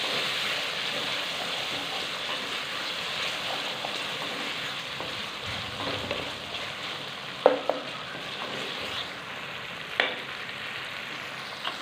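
Tomatoes fry in ginger garlic paste with a steady, soft sizzling hiss, broken by a few sharp clicks of a utensil against the pan near the end.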